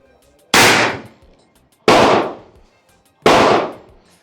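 A Harpoon Magnum 72 caliber airgun fires 1280 grain slugs three times, evenly spaced. Each shot is a loud, close, sharp blast that decays over about half a second.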